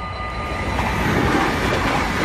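An Arriva double-traction train rolls past at close range, a loud sustained rumble with a rising rush and faint high squeal, steady throughout with no voices.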